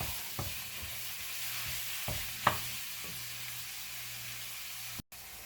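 Ground beef seasoned with salt and pepper browns in a frying pan, a constant low sizzle broken by a few soft scrapes and clicks of stirring, heard close with no voices.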